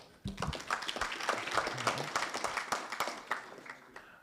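Applause at an auctioneering college class graduation, a room of people clapping steadily with distinct individual claps, moderately close, holding for a few seconds before tapering off, with a brief voice near the start.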